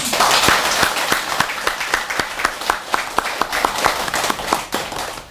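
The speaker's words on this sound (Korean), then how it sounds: "우리 박수로 환영할까요?" Close, loud applause from a modest group at a Buddhist temple prayer service, individual claps distinct and rhythmic, tapering slightly toward the end.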